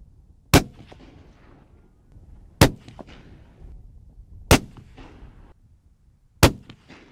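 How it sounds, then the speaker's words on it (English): Four sharp CZ 557 rifle shots at an outdoor range, evenly spaced about two seconds apart, each a loud close crack followed by a short echo. "I'm going to head up to the range and get a few shots down on the targets"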